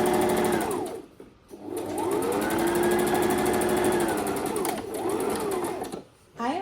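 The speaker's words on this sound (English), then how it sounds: "So I'm just single stitching this." A sewing machine runs loud and close, single-stitching a t-shirt seam in several long bursts with brief pauses between runs, while a voice talks over it.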